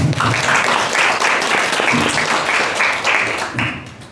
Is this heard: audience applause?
yes